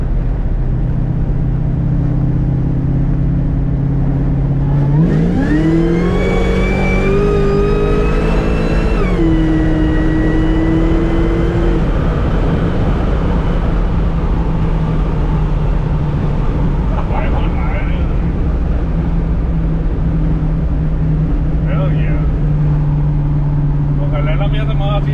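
A 700 HP Dodge Ram truck pulls hard, the engine note climbing in a loud rising rev before settling into a steady drone heard from inside the cab, with some talk over it.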